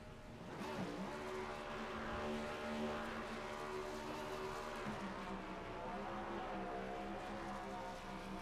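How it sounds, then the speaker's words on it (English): Race car engine roaring in a burnout in iRacing at Circuit of the Americas, a sustained high-revving tone that rises and dips with throttle, with tire squeal and no voices. "Burnout time, baby."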